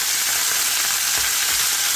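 Pork fat fries in a pan with a dense, steady sizzle, close and loud throughout with no voices.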